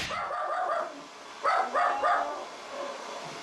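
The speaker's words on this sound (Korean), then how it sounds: "아이든 어른이든 가리지 않고 저 문을 통과해 들어오는 사람이라면 누구든지 짖는 도다미." Dog in a hair salon barking at anyone coming through the door, a few sharp barks heard in a loose cluster, moderately close over room noise.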